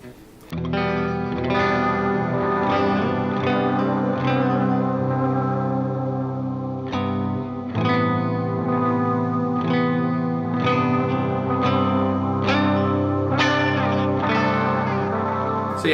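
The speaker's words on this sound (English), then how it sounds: "the wash circuit causes a bit of self-oscillation whereby the delay gets pumped back through the reverb circuit itself" Guitar runs through delay and reverb pedals on an ambient, post-metal pedalboard, the wash circuit pushing the delay back into the reverb until it self-oscillates. Sustained chords swell into a loud, continuous, warbling wash with repeated re-struck notes and no voices.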